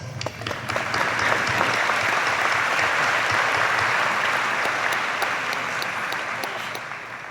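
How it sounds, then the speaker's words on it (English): An audience applauds at the Mansfield High School Class of 2016 graduation, with dense, sustained clapping from a large crowd that holds steady for several seconds and then eases off slightly toward the end. "You deserve a round of applause."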